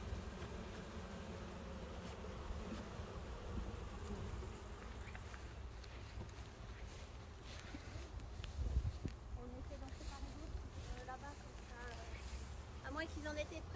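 Honeybees buzz at an open hive holding a recovered swarm during autumn varroa treatment with formic acid, a steady close drone of many bees under ongoing talk.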